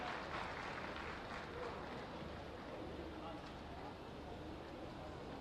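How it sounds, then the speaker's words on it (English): An audience at a forum on the sports sector in Uttar Pradesh welcomes a British High Commission official with a continuous wash of clapping that stays even and fairly distant, with no pauses, for the whole stretch. "Please welcome him with a huge round of applause."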